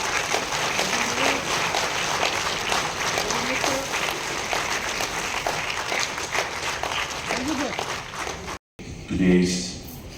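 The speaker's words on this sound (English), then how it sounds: "A round of applause, ladies and gentlemen, for Shrimati Simi Prasad." Applause at an awards ceremony on stage as an awardee is called up: broad, continuous clapping from a crowd with some background murmur, breaking off abruptly near the end before a brief louder burst of other sound.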